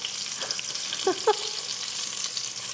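Chicken katsu crisping in hot oil, a quiet steady frying sizzle with a couple of brief scraping stirs near the middle, heard close and alone without talk.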